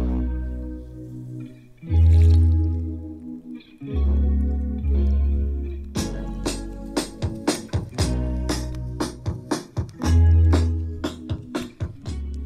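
A JBL GO2 Bluetooth speaker half submerged in water plays loud music with heavy thumping bass beats and a warped, effected tone throughout.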